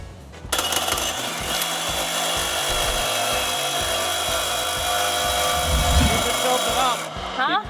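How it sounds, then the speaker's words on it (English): A power tool grinding on a Ford F-450 truck, a loud, steady, harsh whine that starts abruptly, runs continuously for several seconds and then cuts off, with a faint voice underneath. "Keep it tilted up, otherwise you have to grind more."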